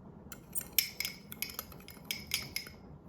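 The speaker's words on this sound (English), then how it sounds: "So we're going to start by mixing our salt and pepper." Salt and pepper being stirred in a bowl with metal cutlery, a run of light, bright clinks and taps at an irregular quick rhythm, close and fairly quiet with nobody talking.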